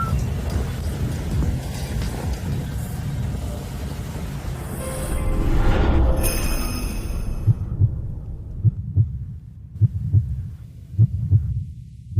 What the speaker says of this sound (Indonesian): Kenapa jantungku berdebar kencang?